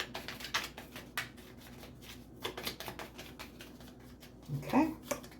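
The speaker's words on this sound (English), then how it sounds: "2 more shuffles and I'll pull from the top." A deck of tarot cards being shuffled by hand, a run of quick papery riffles and slaps coming in short bursts, close to the microphone, with a voice speaking softly between them.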